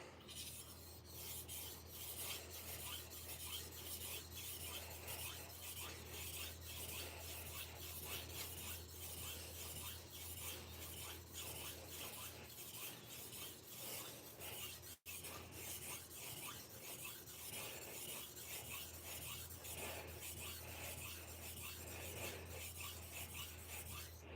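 Kitchen knives being sharpened, a continuous fast rhythmic rasp of blade strokes over an abrasive surface, steady and fairly faint with a steady low hum underneath and no voices.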